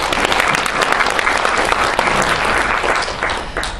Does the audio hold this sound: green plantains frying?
no